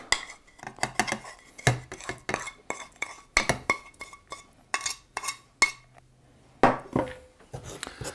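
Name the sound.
scraping sugar from a bowl into a pan with butter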